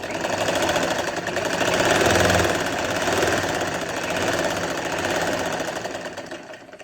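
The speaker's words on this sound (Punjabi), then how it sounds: "ਜਦੋਂ ਫਿਨਿਸ਼ਿੰਗ ਪੱਟੀ ਲਗਾਉਣੇ ਆਪਾਂ ਇਹ ਮਸ਼ੀਨ ਹੌਲੀ ਚਲਾ ਲਓ" Sewing machine running at an even, steady pace while stitching a finishing strip onto the edge of a dupatta, a continuous close whirring hum with slight swells in speed and no talking.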